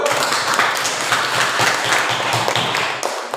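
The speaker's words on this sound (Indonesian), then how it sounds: "Tepuk tangan dulu." A class of schoolchildren claps in a close, loud burst of applause, with dense, rapid hand claps sustained for about three seconds.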